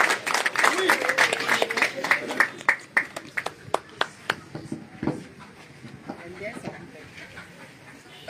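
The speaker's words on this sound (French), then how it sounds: "Est-ce que vous pouvez applaudir pour le secrétaire, s'il vous plaît?" An audience at a Maurice Kamto political gathering in Cameroon claps for the secretary, a burst of scattered, sharp handclaps that thins into sparse individual claps, with voices talking underneath.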